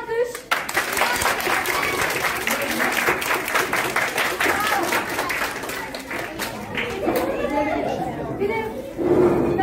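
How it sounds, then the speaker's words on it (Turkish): Audience applause at a fourth-grade English quiz contest at a school, dense clapping with cheering and children's chatter running steadily for most of the stretch, then thinning out as voices take over near the end. "Hadi alkış."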